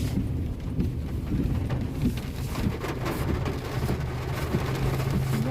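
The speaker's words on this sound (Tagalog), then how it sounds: "Sobrang lakas ng ulan." Heavy rain pours steadily at a resort in Mangatarem, Pangasinan, a dense, even roar of falling water that continues without a break.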